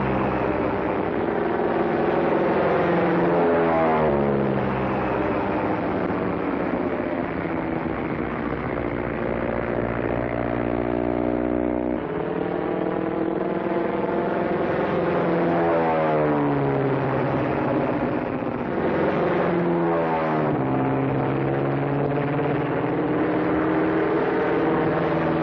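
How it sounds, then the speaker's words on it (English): A propeller airplane dives low over a group of Foreign Legion soldiers in a 1930s comedy film scene, its engine roaring loudly and steadily throughout with rising and falling pitch sweeps as it swoops past, alone and without talk. "the plane dives towards a bunch of Legionnaires who have to dive to the ground to avoid the plane"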